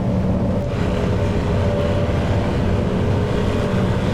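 Steady, loud drone of the four piston engines of a Lockheed L-049 Constellation in Microsoft Flight Simulator, a dense continuous roar with low rumble, held at high power for takeoff on a short runway.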